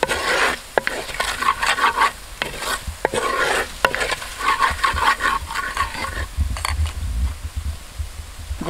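Garam masala stirred in a hot clay pot: repeated scraping strokes of a spoon against the pot over a soft sizzle, close and irregular in rhythm, with no talking.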